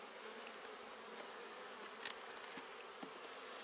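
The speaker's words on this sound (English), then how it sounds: "Tons of bees." Honeybees buzzing over an open beehive, a dense, continuous hum from many bees, steady and close with no voices.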